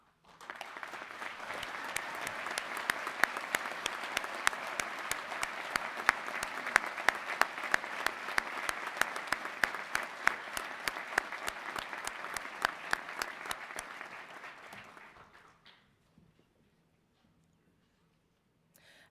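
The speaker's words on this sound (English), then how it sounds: "Will those students, faculty, and staff who are wearing red, white, and blue cords please stand for a round of applause?" Sustained audience applause fills a commencement ceremony hall, dense and steady clapping from a large crowd for about fifteen seconds before fading out to near silence.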